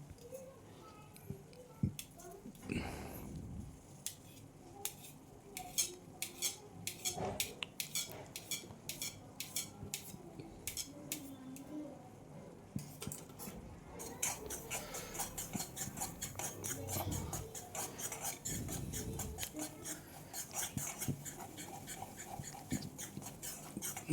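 Semolina roasting in ghee for sheera is stirred in a pan, making quiet, scattered scraping clicks and light metallic taps, with faint voices at times.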